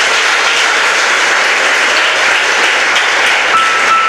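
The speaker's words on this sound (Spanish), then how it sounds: "¿Cuántos pueden dar un fuerte aplauso esta noche?" A church congregation applauds loudly at a Spanish-language evening service, a dense, steady wash of many hands clapping that stays even and close throughout with no speech over it.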